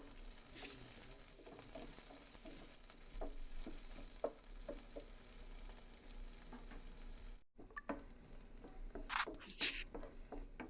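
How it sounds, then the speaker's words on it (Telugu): Thinly sliced onion sizzles steadily in hot oil as it fries toward golden, a soft continuous crackle and patter with occasional stirring clicks, briefly cut near the end. "ఒక ఉల్లిపాయ సన్నగా తరుక్కొని వేసుకోవాలి ఇవి గోల్డ్ కలర్ వచ్చేంత వరకు వేయించుకుంటూ ఉండాలి"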